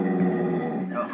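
A dog that looks aggressive growls in one low, steady, rumbling stretch, close and fairly loud, with no other sounds.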